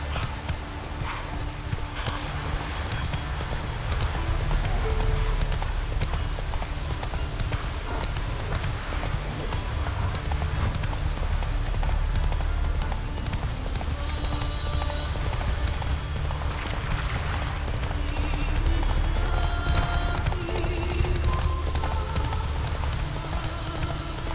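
Roach, a horse in The Witcher 3, trots with steady clip-clop hoofbeats that carry on throughout, loud and close, over a constant low rumble of game ambience, with brief faint vocal sounds.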